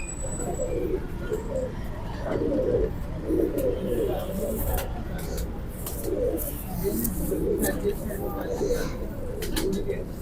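Soft pigeon cooing repeats amid a noisy, busy background in Sialkot, with people talking nearby.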